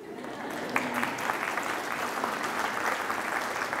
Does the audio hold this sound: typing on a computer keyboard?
no